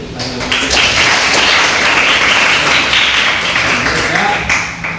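A classroom breaks into applause, with dense clapping sustained for about four seconds at moderate loudness and a few voices mixed in.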